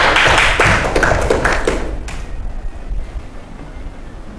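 Classroom applause from a group of students, a loud burst of close clapping and tapping for about two seconds that thins out and fades.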